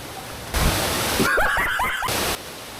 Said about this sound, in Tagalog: Tanawa gud ni mauni ang first na falls.